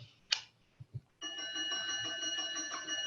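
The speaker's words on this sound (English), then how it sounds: "I don't always get a bell ringing when I come online" A few faint knocks and a brief chime come first, then an electronic bell-like ring starts and sustains steadily for nearly two seconds, clear and moderately loud in a quiet room, with no speech.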